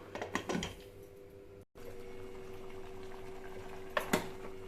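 Mutton kolambu simmering in a covered pot on medium heat, a soft steady bubbling hiss with faint lid and utensil clicks, heard alone without talk.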